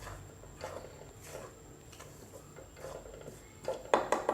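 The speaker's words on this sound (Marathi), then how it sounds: "म्हणून थोडं पीठ भाजून घ्यायचं." Flour dry-roasting in a pan is stirred with a utensil, giving soft scraping and light tapping against the pan in an uneven rhythm, quiet and close, with a louder clatter of strokes near the end.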